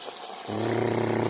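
Cold well water pours from a bucket onto a gas bottle fitting frozen in place at an off-grid garden plot, a close, steady gushing and splashing that starts abruptly and runs evenly to the end.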